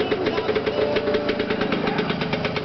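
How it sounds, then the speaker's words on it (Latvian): A Perak 250 motorcycle engine runs steadily nearby, a continuous mid-pitched hum with a regular pulsing throb and no voices. "motors iet ļoti labi"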